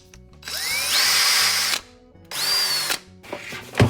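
DeWALT cordless drill from a drill and impact driver combo kit, its trigger pressed to lock the chuck: two loud whirring bursts that spin up in pitch and then stop, followed by a short third whirr, heard up close.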